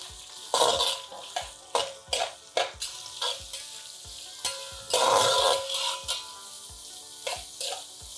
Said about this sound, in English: we're going to add 2 onions that are sliced and we're going to saute them till they are soft, pink and translucent